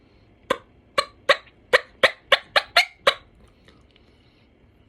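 A turkey call imitates a hen feeding and scratching: about nine sharp, close clucking scrapes come at a fairly steady pace over three seconds, then stop into near silence.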